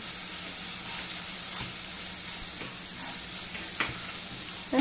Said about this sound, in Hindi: इनको चलाते हुए ऐसे भून लेंगे।